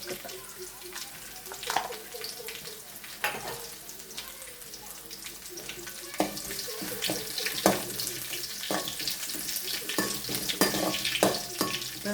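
Crushed garlic frying in hot oil after mustard seeds, a continuous soft sizzle with scattered sharp crackles and stirring clatter, close and moderately quiet, no talk.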